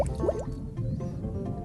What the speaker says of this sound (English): Now, blow bubbles out through your nose.